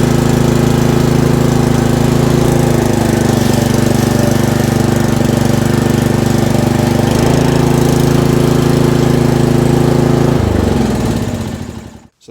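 A Columbia CR30 riding mower engine, running rough after insulation and mouse fur jammed its choke lever, roars loud and steady close by, its pitch shifting a few times before it cuts off at the end.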